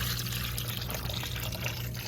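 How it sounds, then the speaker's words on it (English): A Haier washing machine in rinse mode drains water through its drain pump, a steady close rushing and trickling of water flowing down without pause. "It's actually draining the way it should be. Using the pump. Water is going down."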